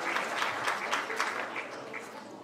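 An audience at a high school athletic hall of fame event gives a short burst of applause, a busy patter of many hands clapping at a fairly faint level.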